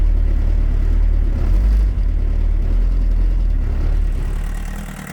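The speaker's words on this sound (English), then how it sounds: "it's definitely not hitting on all four, but you can hear that dead cylinder fire every once in a while." A 1984 Volkswagen Jetta diesel engine idles with one dead cylinder, a steady low rumble close by with an uneven beat and no talking.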